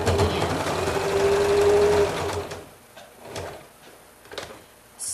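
A sewing machine runs steadily and close for about two seconds while back stitching quilt binding, then stops, leaving quieter handling noises and soft clicks.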